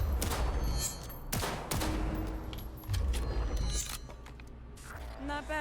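Rapid bursts of gunfire ring out at targets on a Cyberpunk 2077 shooting range, loud close shots with short pauses between volleys and voices briefly speaking in between.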